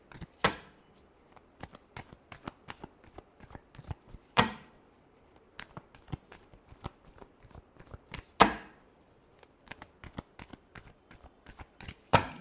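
Tarot cards are shuffled in bursts, a few sharp riffling flurries standing out among many small taps and slides of the deck, close and fairly quiet, with no talking.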